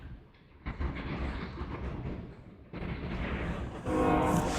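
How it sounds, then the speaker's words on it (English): A train passes near a baseball stadium in St. Catharines during a season-opening game, a steady, fairly distant rumble with rising and falling rolling noise that swells louder toward the end. "The train's here tonight at George Taylor as well."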